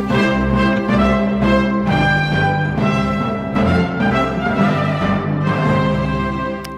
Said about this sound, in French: ce que vous venez d'entendre, c'est donc le générique du concours